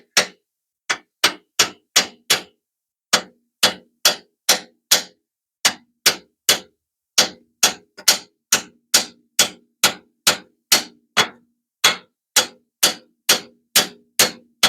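Metal taps drive a part into place on the three-point hitch of a New Holland TN70A tractor during a seal repair: over twenty sharp, ringing hammer strikes in a steady rhythm with brief pauses, close and clear with no talking.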